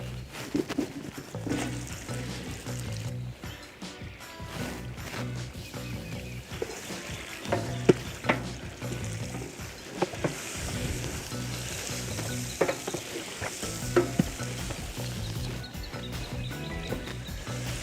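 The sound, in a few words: veal frying in a cauldron for bograch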